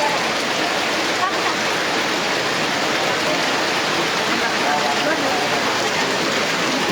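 Heavy rain during typhoon flooding from Typhoon Carina hisses as a dense, constant wash, loud and unbroken the whole time.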